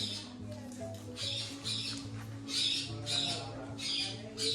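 A parrot at a village house in Konkan gives a rapid series of about eight harsh, shrill squawks in a fairly even rhythm. The calls are moderately faint over a low background hum.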